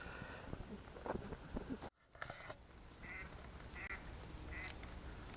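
Ducks quacking outdoors: a few short, mid-distance quacks, with a brief gap and then three spaced calls, over steady background ambience.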